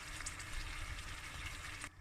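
A liter of water pours into a pasta pot for Neapolitan pasta e patate con la provola, a steady close gushing splash that runs without pause for about two seconds and then stops abruptly.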